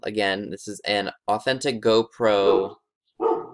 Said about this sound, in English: If you guys hear my dog barking, I'm sorry.